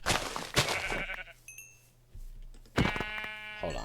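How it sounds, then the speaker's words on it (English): Sheep bleat in a Minecraft-style video game: a couple of nasal, wavering calls open and close the short stretch, close and fairly loud, with a quieter gap between them. "And there's so many sheep around."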